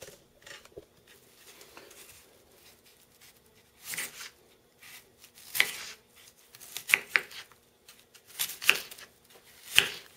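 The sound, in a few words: Spyderco Delica 4 knife cutting food in half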